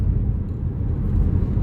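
A BMW 328d F30 diesel pulls steadily under acceleration, a continuous low, loud engine rumble heard from inside the car with no talk over it.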